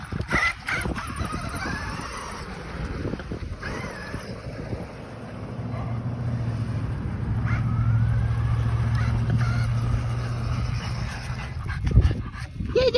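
A French Bulldog whimpers and lets out short squeaky yelps over a steady low hum, with an occasional louder bark-like burst near the end.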